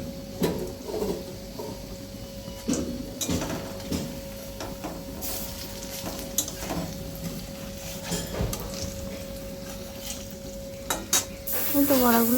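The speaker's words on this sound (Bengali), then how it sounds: "তো বড়াগুলো ভাজাও হয়ে গেছে।" Bora fritters fry in a pan of hot oil and are stirred and turned, with a continuous sizzle, repeated spatula scrapes and knocks, and a faint steady hum. The sound grows louder near the end.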